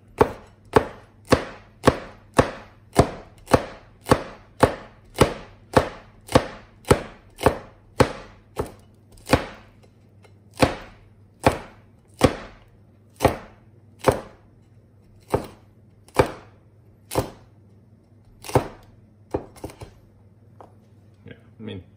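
A large cleaver-style kitchen knife slicing through peppers on a board, a run of about two dozen sharp, close chops, fast and regular at first, then slowing and spreading out toward the end.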